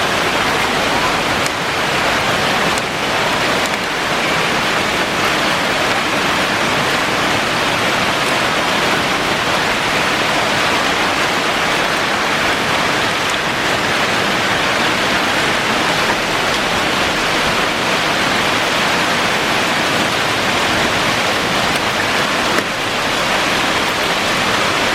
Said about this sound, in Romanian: Uite, se vede grindina.